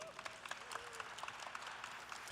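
A classical radio concert audience applauding in a small room, a brief patter of many hands clapping at moderate distance, fairly quiet and fading as the clip ends.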